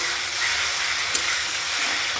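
Spice paste with turmeric frying in a pan gives a steady, loud broadband hiss and sizzle throughout, with one brief sharp crackle midway and no voices.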